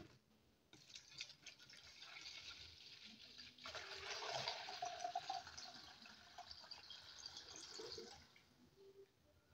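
Water being poured into a container holding pet food, set out to keep ants away; a steady splashing, rushing pour that swells in the middle and tapers off, fairly close and moderately loud.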